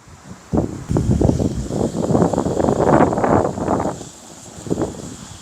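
Gusts of wind buffet a microphone outdoors on a hot day, rising into a sustained rough rumble for several seconds before easing off, with no talking.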